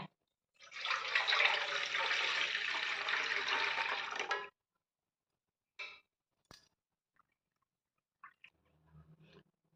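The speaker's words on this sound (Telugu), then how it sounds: "ఇంకొకసారి వడపోసుకోవాలి." Water from soaked bael fruit strained into a vessel, making a close, steady pouring splash for about four seconds that ends abruptly, followed by a few faint drips and small clinks.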